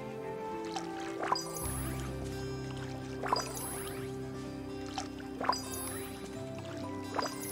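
Watering plants in the Disney Dreamlight Valley video game brings soft liquid drips and splashes, repeated about every second or two over a steady musical background.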